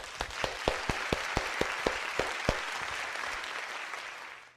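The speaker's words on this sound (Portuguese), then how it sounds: "Vamos ofertar uma grande salva de palmas de agradecimento para a" A large seminar audience breaks into sustained applause, a dense wash of clapping with a few sharper claps standing out, holding steady before tapering off at the end.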